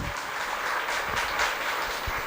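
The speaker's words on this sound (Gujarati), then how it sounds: "એને જોરદાર તાળીથી વધારીએ માતાજીને" Crowd clapping at a Shrimad Bhagavat Saptah religious gathering in Upleta, honoring Mataji, steady applause with some louder individual claps standing out near the end.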